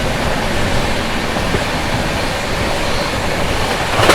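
The Ranchi Rajdhani Express rushes past at speed, a loud, broad roar of wheels and rushing air filling the whole stretch without pause or voices.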